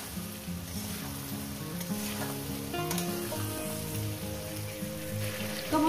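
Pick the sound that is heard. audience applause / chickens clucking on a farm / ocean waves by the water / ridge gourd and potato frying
ridge gourd and potato frying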